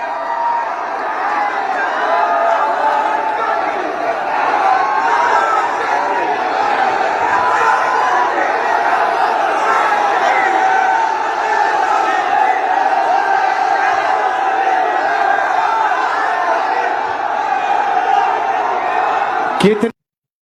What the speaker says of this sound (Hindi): Crowd chanting Rahul we love you. माहौल पूरा पूरा राहुल राहुल करके आवाज लोग लगा रहे थे।